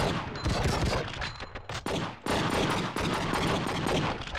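True Crime: Streets of LA shootout, with dense rapid gunfire crackling in loud, continuous volleys, briefly broken by short pauses before the barrage resumes at full intensity.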